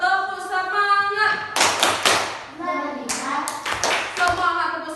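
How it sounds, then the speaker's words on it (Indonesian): Schoolchildren in a classroom do a rhythmic spirit clap, sharp group claps in short patterned bursts between stretches of chanting voices. "coba dulu tepuk semangat"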